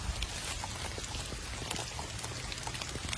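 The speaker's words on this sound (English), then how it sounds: "So I'm out here in the rain." Rain falling outdoors during animal-feeding chores, a close, steady patter and splash of drops on wet surfaces with no one talking.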